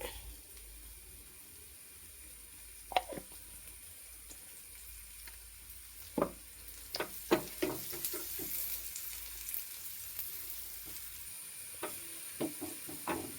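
Rice fries in ghee in a pan, giving a steady soft sizzle with scattered crackles and louder pops that build toward the middle and end, close up with no talking.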